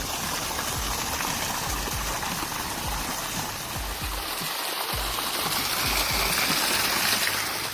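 Water gushes and splashes continuously nearby through a hollow tree trunk in Montenegro after heavy rain, a loud, steady rushing pour with scattered heavier splashes underneath.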